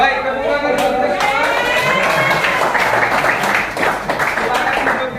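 A classroom of students applauds together in a dense, continuous patter of claps, with voices mixed in under the clapping.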